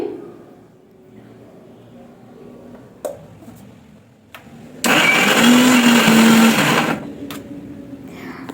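A mixer grinder whirs loudly for about two seconds while blending a spice paste, cutting in abruptly after quiet kitchen sounds and a few knocks, then stopping sharply.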